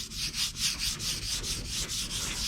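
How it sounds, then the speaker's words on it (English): Hand sanding a lacquered wood workpiece with sandpaper, a close, steady back-and-forth rasping in even rhythmic strokes, loud and alone. "So I'm just kind of giving it a rub down with the sandpaper"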